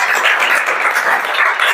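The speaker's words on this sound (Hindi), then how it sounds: "ताली बजाओ भाई" A classroom of students clapping together in applause during a Hindi-medium Class 7 maths lesson, a steady dense patter of many hands lasting the whole stretch without pause.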